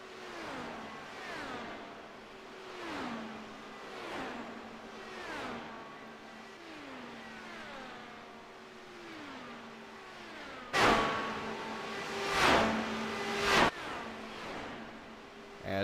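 Race cars lap the Indianapolis oval in an open-wheel series, engines rising and falling in repeated pitch sweeps every second or so, then a louder, closer burst near the end as one car approaches.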